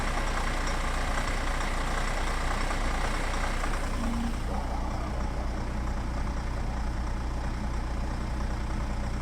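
Mercedes W245 2.0 CDI diesel engine idling after warm-up with a metallic knocking fault, a steady close drone with a rapid rattling texture throughout.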